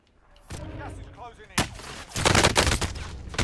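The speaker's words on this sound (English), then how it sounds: "I'm getting sniped at from somewhere I don't know." Sniper and other gunfire in a Warzone battle royale match: sharp, loud shots crack near the midpoint, followed by a cluster of rapid heavy bursts, with faint voices in the background before them.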